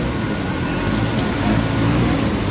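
Heavy monsoon rain pours down in Surat in a dense, constant hiss, loud and close throughout with no voices.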